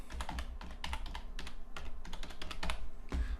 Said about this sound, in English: type in description